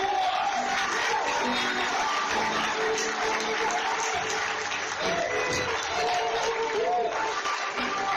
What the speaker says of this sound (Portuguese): Aplauda bem alto